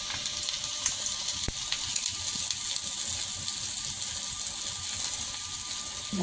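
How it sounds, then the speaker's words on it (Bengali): A beef burger patty fries in oil in a pan, giving a steady close hiss and crackle with a single sharp tap partway through. "নিচের পাশটা হয়ে গেছে, এখন সাবধানে উল্টে দেব। এভাবে উল্টে পাল্টে 2 পাশ ভালোভাবে ভেজে নেব।"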